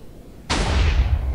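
A Minecraft TNT cannon firing, one sudden loud booming blast after a quiet moment, followed by a rumbling, slowly fading roar.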